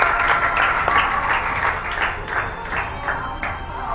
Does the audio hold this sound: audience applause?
yes